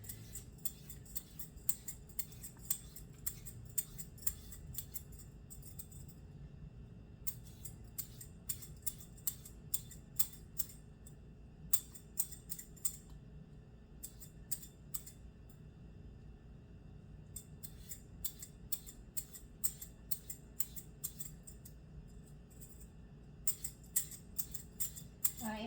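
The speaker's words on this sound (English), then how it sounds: "So we're going to be peeling 2 pounds of potatoes." Potatoes being peeled with a hand peeler, heard as quick, rhythmic scraping strokes in bursts with short pauses between them, close and fairly quiet over a low background hum.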